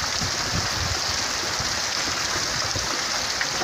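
Heavy rain pours steadily during a downpour in Monte Azul, northern Minas Gerais, with dripping leaks and runoff water rushing; a dense, continuous wash of falling water fills the scene at close range without pause.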